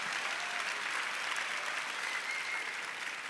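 Steady applause from a pitch-night audience, a dense even wash of many hands clapping that holds at constant loudness throughout, with no voices on top.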